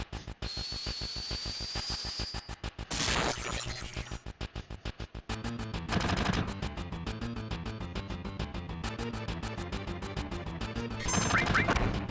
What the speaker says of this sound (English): That sound and this little rainbow effect means we have our limit break, which serves as special attacks.